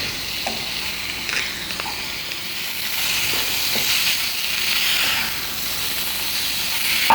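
Marinated chicken sizzling in a hot pan over a high flame while being stirred, giving a steady bright hiss with scattered spatters and scraping clinks throughout, close and loud, with no talking.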